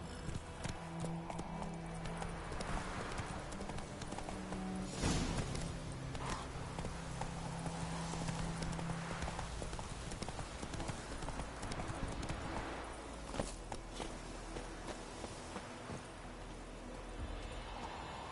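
Geralt's horse clip-clops steadily while riding in The Witcher 3: Wild Hunt, a continuous close rhythm of hooves over game music and ambience, with no voices.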